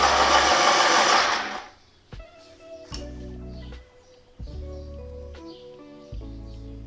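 A colored pencil being sharpened in a pencil sharpener during a coloring session, heard as a steady whirring grind in several bursts separated by short pauses, close and fairly loud, with no voices over it.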